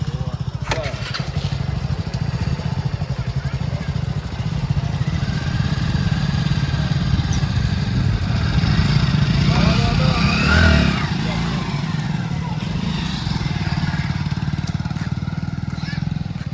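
A motorcycle being ridden: a steady, fairly loud low engine rumble that runs throughout with a brief surge near the end, with muffled voices underneath.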